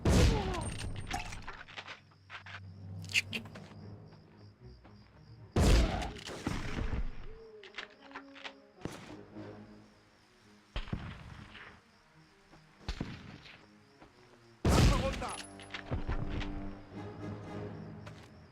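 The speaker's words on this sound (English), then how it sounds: "I love the shotgun. The shotgun's so good." Shotgun blasts in the 1999 Medal of Honor video game, three loud, sharp reports spaced several seconds apart over a busy backdrop of game ambience and lesser effects.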